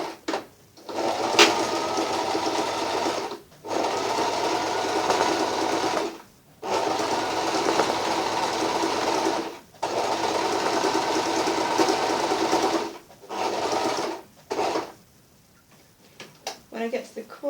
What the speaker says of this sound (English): My sewing machine is set up with the needle in the middle of the foot